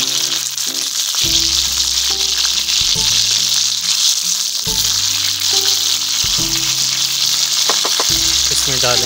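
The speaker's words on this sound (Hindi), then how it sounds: "इसको डालेंगे अब तवे के ऊपर। हल्का सा हम इसको कुक करेंगे।" Chicken tikka sizzling loudly on a hot tawa griddle, a dense continuous frying hiss with intermittent low clanks and scraping from stirring, close and alone throughout.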